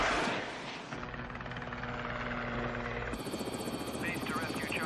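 A rescue helicopter flies overhead with a loud, continuous rotor roar and engine hum that fills the whole stretch, shifting in tone partway through, with voices partly under it.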